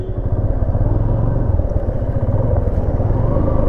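A motorcycle rides along a road near Nainital, its engine droning steadily and loudly up close with continuous low rumble and wind noise, no speech over it.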